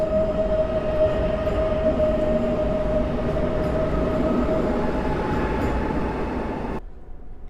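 An Intercity Leśmian train pulls out of Warszawa Centralna station, a steady rumbling roll of rail cars with a sustained tonal whine, close and even, cutting off abruptly near the end.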